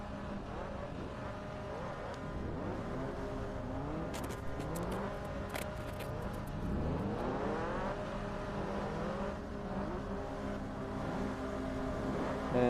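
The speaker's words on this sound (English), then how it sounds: "Revving intensifies. Cars are prepping to get going, I believe, for this 30 lap feature." Miata Cup race cars rev their engines on the grid before a 30-lap feature race, several motors overlapping in steady rising and falling drones with sweeping pitch changes, loud and continuous with no talking.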